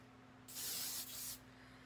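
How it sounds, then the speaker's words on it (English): Hairspray from an aerosol can sprayed onto hair during a hairstyling session, two close hissing bursts of just under a second each, the first slightly longer, over a low steady hum. "And then take your hairspray."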